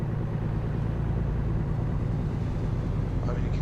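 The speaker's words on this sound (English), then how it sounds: "Hear that engine lug as it tries to climb that grade" A truck engine lugs uphill while climbing a grade out of San Francisco in American Truck Simulator: a continuous, heavy low rumble drones steadily without letup.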